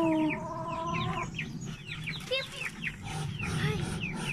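A rooster gives a series of short, close clucks amid other bird chatter, with faint voices in the background.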